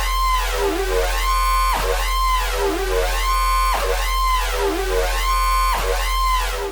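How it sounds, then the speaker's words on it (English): An FM bass effect synthesized in Serum repeats in regular swooping, growling sweeps, each cycle roughly one second long, loud and alone over a steady low drone. "today, we're going to be making a pretty cool bass effect sound"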